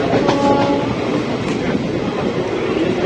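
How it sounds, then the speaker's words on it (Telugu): A special passenger train at Srikakulam railway station rumbles past close by, loud and continuous, with rolling wheel noise and a brief faint horn-like tone early on. "ఇది స్పెషల్ ట్రైన్ కాబట్టి ఉన్నారు."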